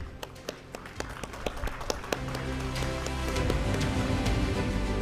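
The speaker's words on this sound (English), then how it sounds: "Round of applause, please, ladies and gentlemen." An audience at a business summit applauds during a souvenir presentation to an investment management CEO; scattered sharp claps at first grow into steady, sustained clapping over a faint background hum.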